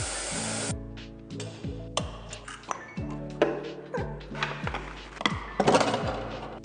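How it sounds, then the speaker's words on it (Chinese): A short sharp hiss of refrigerant escaping from a chest freezer's pipes opens the sound, followed by a series of metallic clinks and taps from tools working on the dismantled unit, close and moderately loud. "放出制冷剂。"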